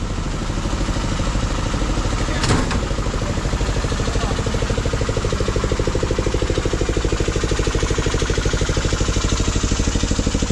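Buses idle in a queue behind a landslide blocking the Mandangad road, their engines throbbing in a steady low rhythmic pulse, with a single sharp click partway through.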